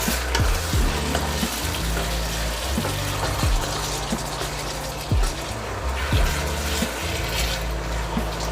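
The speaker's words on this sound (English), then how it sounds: "Let it simmer a little bit." Brisket lo mein simmers and sizzles loudly in a pan, a steady close frying hiss with stirring scrapes and clinks throughout, no voices.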